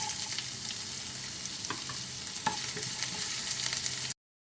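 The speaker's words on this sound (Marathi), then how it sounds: "कांदा घालून घेत आहे" Chopped onion fries in hot oil in a pan, a steady close sizzle with a few sharp crackles and stirring clicks, alone with no voices, ending abruptly in silence.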